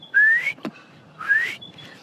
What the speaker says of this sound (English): the birds are whistling behind me